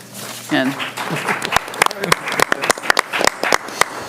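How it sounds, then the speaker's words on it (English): Scattered applause from a few people at a school board of education meeting after an audit report, sparse individual claps with talk and murmuring around them. "Applause, that's a first after an audit report applause?"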